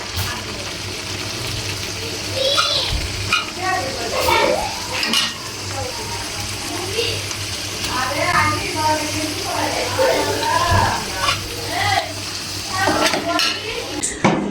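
Fish is laid into a pan of fried spice paste made with tomato paste and spice powders, and a steady close sizzle runs throughout. Spatula scrapes and clatter sound over it while voices talk nearby.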